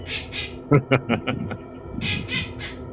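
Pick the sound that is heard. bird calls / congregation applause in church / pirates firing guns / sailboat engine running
bird calls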